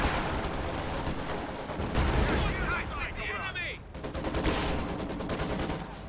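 Heavy artillery fire from a B4 howitzer in the Company of Heroes 2 battle game, booming amid a dense, continuous din of distant gunfire and explosions, with a commentator talking over it.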